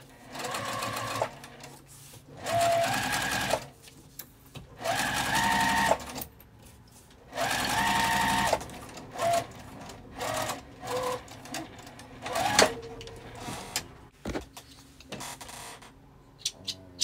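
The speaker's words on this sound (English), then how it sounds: "We're just going to stitch across the top, flip it up, and top stitch." A sewing machine top stitching across a zipper pouch runs in several loud bursts of rapid mechanical whirring, separated by short quiet pauses.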